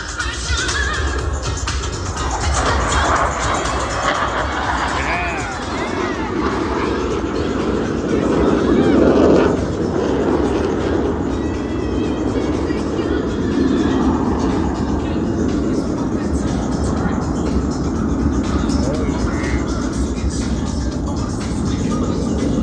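US Navy Blue Angels jets fly past at a beach airshow with a broad, continuous roar that swells in the middle and then slowly fades, while a public-address announcer talks over it.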